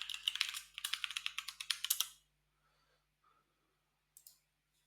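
A password is typed fast on a computer keyboard for about two seconds, a close run of crisp keystrokes. Then comes near silence, broken by a couple of faint clicks.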